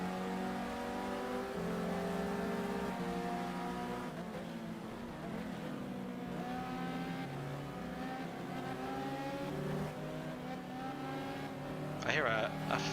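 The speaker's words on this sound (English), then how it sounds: "I hear a fast car behind me. Oh no, it's the Ferrari. Just sounds quick." A Ferrari race car in the GTR2 racing game, set at the 2003 Spa 24 Hours, closes in from behind with a high, steadily revving engine whine that shifts pitch as it nears, while players talk over it.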